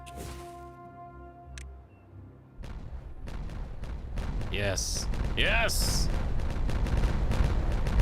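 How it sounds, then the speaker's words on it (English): Explosives blast in the Timberborn video game, a rumbling burst of booms building after a quiet start, with someone speaking briefly and game sound effects sweeping over the blasting. "who's ready to see the big explosion?"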